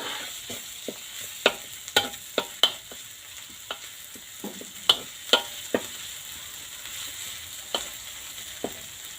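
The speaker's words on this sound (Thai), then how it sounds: "ผัดพริกแกงก่อนจ้าผัดไ ฟอ่อนๆ" Curry paste stir-fried on low heat makes a soft, constant sizzle broken by repeated sharp clicks and taps of the utensil against the pan.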